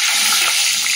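Potatoes sizzling in hot mustard oil with salt and turmeric, a dense, steady hiss of frying close up, without any voices.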